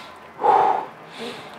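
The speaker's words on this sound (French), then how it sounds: "concentre-toi sur le son qui sort de ta respiration" A person demonstrates their own breathing: one strong snort-like breath swells and fades near the middle, followed by a softer second breath, close and alone with no talk.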